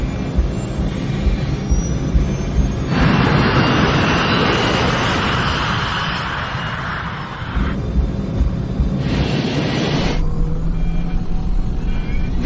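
A Scandinavian Airlines airliner, Flight 686, rolls for takeoff down a 2,400-meter runway, its engines giving a loud, steady roar that swells and shifts for several seconds, with faint voices in places.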